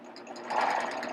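Domestic sewing machine stitching along fabric to gather it, a steady close mechanical whir that grows slightly louder partway through, with no talking.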